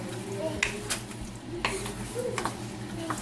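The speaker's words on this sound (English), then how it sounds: "Give it a nice stir." A spoon stirs sauce-coated shrimp in a pan for Singapore shrimp, with soft scraping and scattered metallic clinks over a steady low sizzle and hum.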